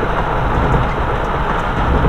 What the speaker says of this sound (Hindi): काफ़ी तेज बारिश हो रही है चारों तरफ